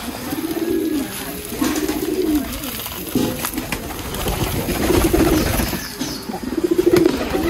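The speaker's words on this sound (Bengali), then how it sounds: "দেখতেই পাচ্ছেন আমার বাইরের সব কবুতর।" A flock of pigeons outdoors coos in repeated low, rolling phrases, loud and close, with brief wing flaps between the calls.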